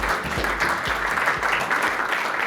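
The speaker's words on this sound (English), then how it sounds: "Please welcome with a warm round of applause, EngiLifeSciences Senior Vice President, Dan" Audience applause welcoming a speaker at a business presentation, a warm, steady patter of clapping with a few low thumps underneath, heard alone at moderate volume.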